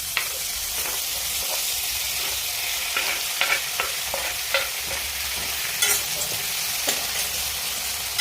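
Fenugreek seeds crackle and sizzle in hot oil while a spoon stirs them, giving a steady loud hiss with scattered sharp scraping taps and no voices.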